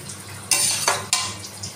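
A spoon stirs a shrimp dish of malai chingri with a little sugar in a pan. A few short scraping, sizzling strokes come close, with quiet gaps between them.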